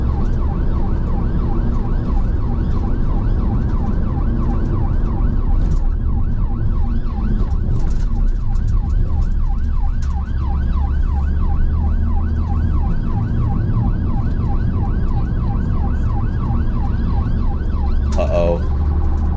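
A UK ambulance siren on a blue-light emergency run through rush-hour traffic, its repeating wail loud and close and sustained throughout, with steady road and engine noise underneath.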